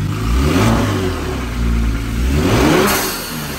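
A Kia Stinger GT engine with freshly installed spark plugs revs up strongly, loud and close, rising and falling twice with a steady mechanical drone between pulls.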